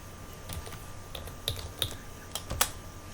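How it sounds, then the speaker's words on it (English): A computer keyboard clacks as a QBasic program is typed, a short run of quiet, close, irregular keystrokes with a few sharper taps and no talking. "So type the program for if then."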